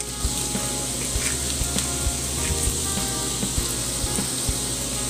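Aromatics sauté (gisa) in a hot pan for a quick tuna dish, giving a continuous close frying sizzle broken by regular soft thumps and taps of stirring. Nobody speaks.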